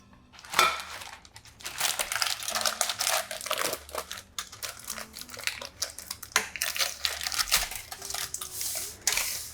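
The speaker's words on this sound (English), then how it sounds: "Align the base with parchment paper so that it's easy to remove." Parchment paper crinkles and rustles loudly while being pressed in to line the base of a 9-inch springform pan for a pistachio cheesecake, with irregular crackling bursts and occasional light metallic taps from the pan, and no voices.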